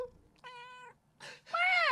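A person imitates a cat, voicing a steady harmonic meow, then a short breathy burst and a louder rising-falling meow, close and clear with no other talk.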